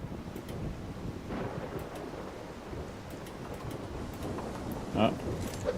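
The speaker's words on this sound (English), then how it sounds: "Oh, hear the lightning hit?" A lightning strike and rolling thunder in a Solarpunk farming game storm, a low rumble over steady rain and wind noise, with a brighter crack near the end and a voice speaking over it.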